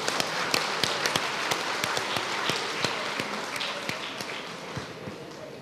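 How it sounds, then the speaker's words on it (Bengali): Audience applause for mothers honored at a Mother's Day ceremony, a dense sustained wash of many hands clapping with sharper individual claps standing out, steady and fairly loud throughout. "আমি সকল রত্নগর্ভা মা এবং বিজয়ী মা সবার জন্য জোরে হাততালি দিয়ে সবাইকে"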